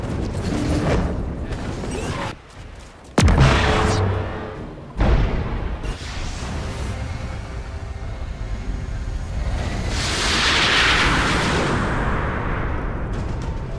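Cannon fire in a Marvel PC video game: heavy booms and a sharp blast around the middle, over continuous rumbling battle noise, loud and close.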